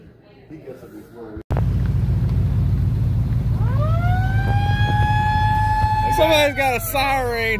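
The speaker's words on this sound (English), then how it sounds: "Somebody's got a siren." After a sudden loud burst of noise, a siren winds up and holds a rising wail, with voices talking underneath and over it.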